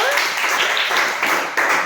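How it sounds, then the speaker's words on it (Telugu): A group of children clap together in a classroom while a teacher asks about their ambitions; brisk, steady applause fills the whole stretch, with voices mixed in. "వెరీ గుడ్, క్లాప్స్ కొట్టండి నాన్న అందరూ."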